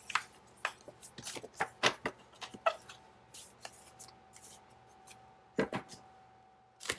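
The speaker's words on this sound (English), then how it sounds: "So I'm just going to cut this in half." Scissors snip through a journaling card, cutting it in half with a run of close, crisp, irregular clicks and slicing sounds, fairly quiet with no talking.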